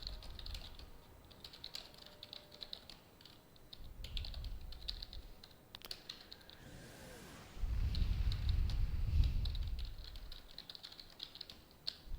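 Steady typing on a computer keyboard in a quiet room, clicky keystrokes running continuously through the clip with a couple of low thumps and a brief whoosh partway, no voices.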